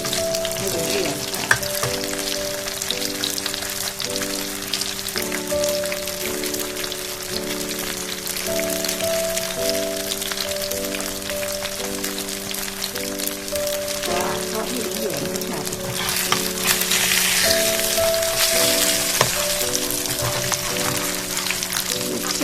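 Ripe kluai khai bananas frying in hot oil, giving a steady, dense sizzle and crackle that runs throughout, with faint stirring and someone talking over it.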